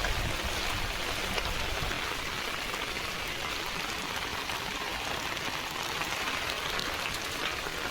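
Steady rain falls outdoors while someone fishes, a dense, even hiss of drops on water and surfaces that stays constant and close throughout.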